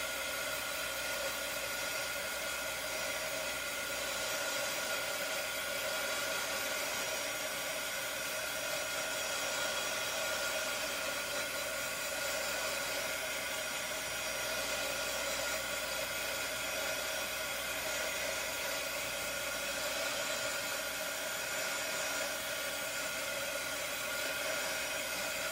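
A hair dryer blows steadily and loudly for the whole stretch, drying freshly painted stencil craft work, a constant broadband whoosh with no talk over it.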